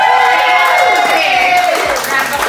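Audience at a book launch breaks into applause and whoops, a loud, close burst of clapping and cheering that carries over voices and tails off slightly at the end.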